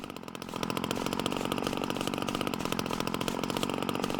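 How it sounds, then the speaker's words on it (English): A lawn mower engine idling in the video game Lawn Care Simulator: a steady, rapid mechanical putter that starts up and holds a loud, even chugging rhythm throughout, alone with no talk. "See, I like the noises like when it's idle."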